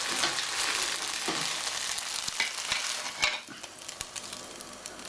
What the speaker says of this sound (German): da wollen wir mal das rausholen hier aus der Pfanne